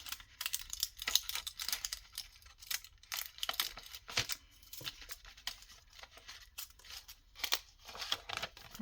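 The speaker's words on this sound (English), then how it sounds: "let me see if I can get it out without ripping the whole thing" Crinkling and tearing of paper and a plastic window being pulled from a junk mail envelope, with irregular close rustles, small snaps and scratchy bursts spread across the stretch.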